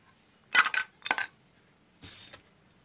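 Three sharp metallic clinks as a metal bowl of chocolate is set on a pot over water, two quick clanks close together, then a softer scraping knock after a pause.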